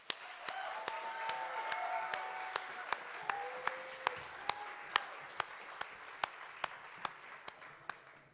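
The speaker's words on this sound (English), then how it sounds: "A big round of applause for that." Applause from an audience at a pitch competition final, a soft diffuse patter with a few sharp isolated claps standing out at a steady beat, heard at moderate distance with some background voices.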